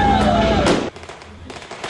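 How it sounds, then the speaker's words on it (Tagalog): A sharp burst of New Year's firecrackers in the streets crackles and pops loudly for under a second, followed by quieter scattered bangs and background noise. "Habang dumadagundong ang mga paputok sa mga kalye kagabi"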